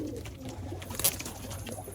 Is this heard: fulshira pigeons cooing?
yes